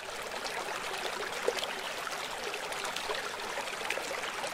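Water from a waterfall and stream along an Iceland hiking trail rushes in a steady, hissing wash, constant and fairly close, with no voices over it.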